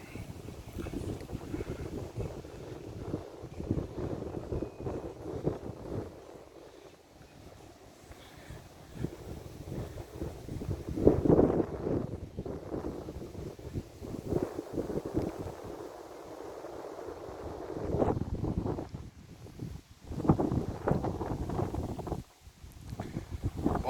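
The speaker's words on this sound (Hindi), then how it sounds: "बहुत ही ज़बरदस्त हवा चल रही है।" Strong gusting wind roars and buffets the microphone on a boat-shaped deck in the New Songdo area of South Korea, surging and easing in loud, rough bursts throughout.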